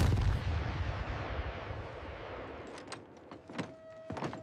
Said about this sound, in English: Anti-aircraft guns engaged incoming aircraft.